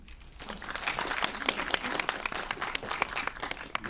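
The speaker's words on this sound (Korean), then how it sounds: "박수 부탁드리겠습니다." An audience claps at a cinema talk after a film screening in Korea, a dense crackle of many hands that swells in after a quiet start and keeps going steadily at moderate volume.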